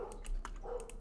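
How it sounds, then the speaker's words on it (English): A dog barks several times in the background during a zoo-building game session, short repeated yaps standing out over a steady low hum. "That's just a dog."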